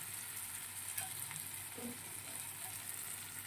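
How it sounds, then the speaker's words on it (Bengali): Pre-fried potatoes tossed into a hot pan give off a faint, steady sizzle with light scraping from stirring, and no one speaks. "ভেজে রাখা আলু দিয়ে দিলাম"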